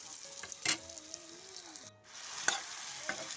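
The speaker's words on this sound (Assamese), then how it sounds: "তাৰপাছত অলপ লৰাই ভাজি আছোঁ" Garlic, turmeric and salt stir-frying in a pan give a faint, quiet sizzle with a few sharp scrapes of a spatula against the pan, and no voices.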